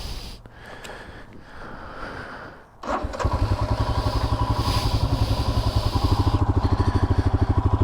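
After a quiet rustling stretch, a Himalayan motorcycle engine cranks and starts, settling into a loud, steady rhythmic idle.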